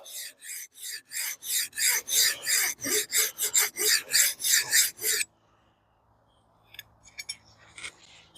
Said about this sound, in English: I sharpen all these to about rough 15 degrees per side